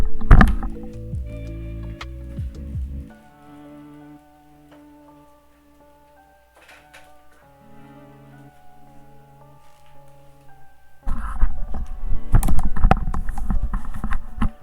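Typing on a custom mechanical keyboard: quick clicky keystrokes in short bursts with quiet pauses between them, then a louder, busier flurry of keypresses near the end, recorded up close with soft musical tones underneath.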